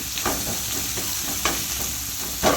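Chopped onions fry in a pan with a steady crackling sizzle, broken by a few louder scrapes of stirring; no one speaks.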